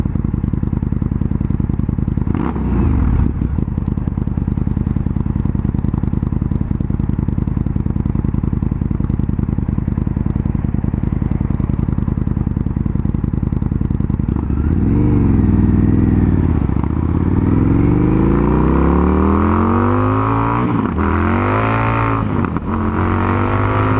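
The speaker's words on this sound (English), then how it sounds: "I love the sound of this bike. It sounds like a muscle car." A 2019 Indian FTR 1200S motorcycle being ridden: a loud, steady engine drone runs throughout, then swells into repeated revs with rising and falling pitch sweeps during the second half, with no talking.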